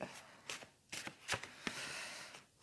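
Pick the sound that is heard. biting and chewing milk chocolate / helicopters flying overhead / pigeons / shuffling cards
shuffling cards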